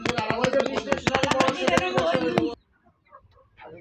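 A dense, loud chorus of chickens clucking close by at a large poultry farm holding Sonali and broiler hens, overlapping calls for over two seconds before cutting to near silence.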